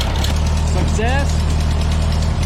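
A tractor engine idles with a steady, low, rumbling hum throughout, and a voice briefly speaks over it partway through.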